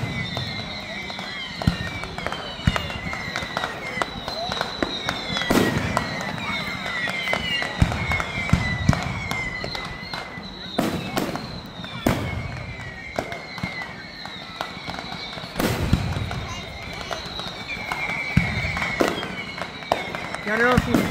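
Manchester Day fireworks show with repeated booming bursts and crackling shells going off at irregular intervals throughout, some sharp and close, others softer, while people talk over the display.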